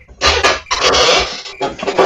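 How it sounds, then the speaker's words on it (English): A dog sound effect depicting a dog being infected by an alien comes as three harsh, raspy bursts of snarling, gurgling noise, each cut off by brief gaps, loud and close with no talk. "The sound you just heard is a dog being infected by an alien."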